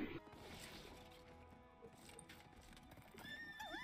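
A horse from the anime Ranking of Kings neighs and whinnies, with clip-clopping hooves and battle noise in a dense animated soundtrack, ending in a loud rising and falling whinny.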